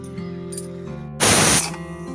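A pressure cooker on a kitchen stove, cooking mutton curry with chana dal and raw mango, gives one short, loud hissing whistle burst of about half a second over a low stove hum.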